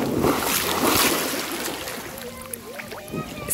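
A person cannonballs into a hot spring at Santa Teresa, Ahuachapán, El Salvador, a broad, loud splash and churning water up front that settles into quieter lapping, with voices nearby.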